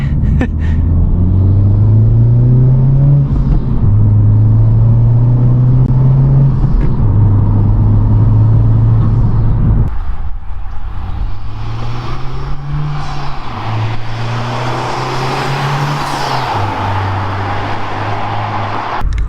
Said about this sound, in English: I'm gonna hit Vivian with that ricer flyby